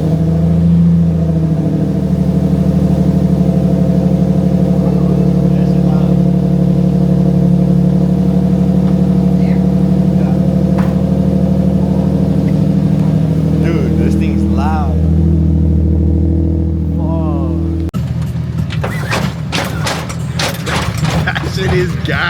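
A Lexus IS300 fitted with catless headers cranks and fires up, settling into a loud, steady idle that drones on, then breaks into sharp revving bursts near the end, close up with some talk over it.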